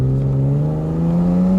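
BMW E36 M3 Evo 2 with a six-speed gearbox swap, driven on the road: a steady, full engine drone with strong, even harmonics that climbs slightly in pitch, loud and close throughout with no talking.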